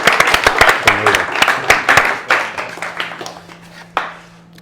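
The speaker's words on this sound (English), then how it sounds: "So let's give them another clap." Applause for students at an end of term awards; a room of people claps together, loud and dense at first, then thinning to a few scattered claps and fading out, with a faint voice underneath.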